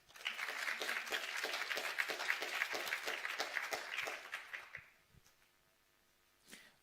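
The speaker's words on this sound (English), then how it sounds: "Give them an applause." Audience at a graduation ceremony claps in dense, sustained applause for several seconds, then it fades out, leaving faint room noise and a lone clap near the end.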